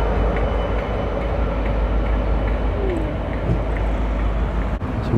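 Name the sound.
Northern Belle Pullman train passing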